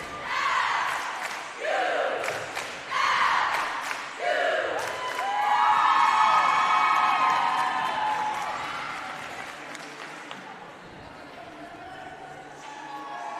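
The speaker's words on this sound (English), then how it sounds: "You can hear the teams cheering for each other" Teams cheering for one another at a Conference Carolinas competition finals, with crowd shouts and whoops rising in repeated bursts, then a sustained swell of massed cheering that gradually fades, with voices mixed throughout.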